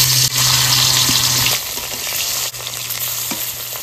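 Rohu fish pieces fry in hot mustard oil in a wok, producing a loud, dense, continuous sizzle up close that eases slightly partway through, with occasional crackles.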